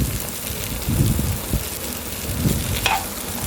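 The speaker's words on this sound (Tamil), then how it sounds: "இதோட கொஞ்சோண்டு வெல்லமும் சேர்த்து நல்லா வதக்கி எடுத்துக்கோங்க." Bitter gourd frying in a pan with salt and jaggery, giving a continuous close sizzle with intermittent stirring scrapes and a brief clink near the end.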